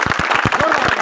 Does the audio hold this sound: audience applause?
yes